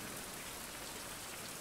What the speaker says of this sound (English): Ah, beautiful. It started raining.